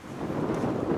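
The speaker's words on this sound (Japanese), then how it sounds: "今日はかなりの風が吹いているので" Strong wind buffets a microphone outdoors at a golf tournament with a heavy tailwind, making a dense, continuous low rumble and roar throughout, with no voices.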